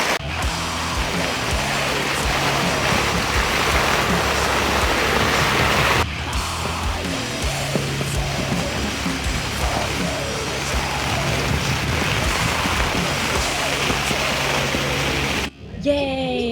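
Heavy rain drumming on a tent at the Summer Breeze metal festival, a dense continuous hiss that stays loud throughout, with a brief break partway and a sharp cutoff near the end.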